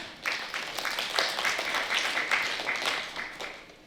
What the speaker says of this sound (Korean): 박수로 청해 듣도록 하겠습니다